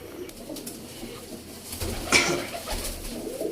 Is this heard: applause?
no